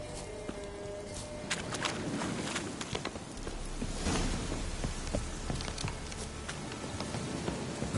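Steady rain patters across open ground in The Witcher 3: Wild Hunt, a continuous wash of drops with soft footstep-like thuds and occasional brighter splashes, moderately loud and unbroken throughout.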